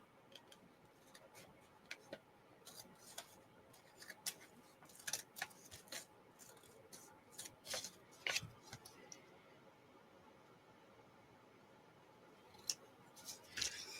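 Scissors trimming paper for an altered index craft, a quiet scattered series of snips and crisp clicks, close and faint.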